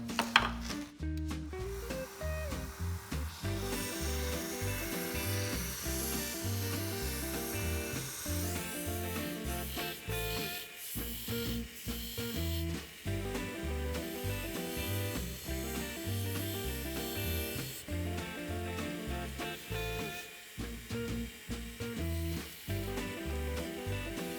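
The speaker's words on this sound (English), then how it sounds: "I have an 80 grit belt on my sander, and I'm going to sand them all off" Belt sander fitted with an 80 grit belt grinds down ridges on a knife handle, a steady, close rasping drone lasting over twenty seconds with only a few brief dips in pressure.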